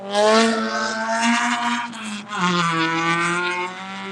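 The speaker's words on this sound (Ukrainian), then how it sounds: "люте Рено одне літає на дикому вихлопі" A Renault race car with a loud, wild exhaust on a circuit track day after rain, its engine note rising and falling through gear changes, close and very loud.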